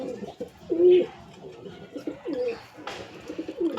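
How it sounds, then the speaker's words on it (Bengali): A young pigeon held in the hand gives several soft, low coos in short rounded bursts, close by, with brief gaps between calls. "এই হচ্ছে পায়রাটা"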